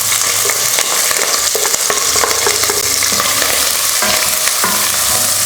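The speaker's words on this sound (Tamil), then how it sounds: "வெங்காயம் கொஞ்சம் வதங்கட்டும்." Sliced onion and green chillies sautéing in hot oil with pepper and cumin, a loud continuous close sizzle with stirring clatter and no voices.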